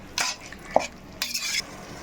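Chili powder being stirred into masala in a pan for dum biryani, with short scraping strokes of a spoon against the pan and a faint sizzle in between, close and fairly quiet.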